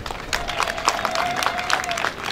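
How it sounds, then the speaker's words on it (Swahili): An audience at a Tanzania Public Service graduation applauds, a dense patter of many hands clapping with crowd murmur and a sustained tonal sound running through, fairly loud. "Tujipigie makofi kwa hilo."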